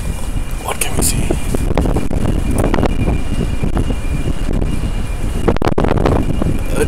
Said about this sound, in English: It's so windy outside, it's terrible.